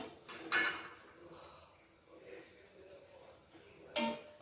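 Metal pot of chicken set down on an iron griddle over a gas stove, two short clanks of metal on metal a few seconds apart, with quiet handling between.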